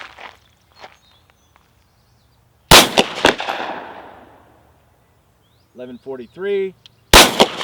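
Winchester 9mm NATO 124 grain rounds fired over a chronograph, two sharp loud gunshots with a ringing decay and a brief voice between them.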